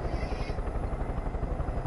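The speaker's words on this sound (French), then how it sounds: "Et peut-être des hélicoptères dans Far Cry." A helicopter in the video game Far Cry 5 gives off a steady, rough rotor thrum with dense low rumble that stays loud and unbroken the whole time.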